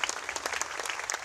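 Dense applause from the audience at a church healing crusade in Manado, a steady wash of many hands clapping close and loud throughout.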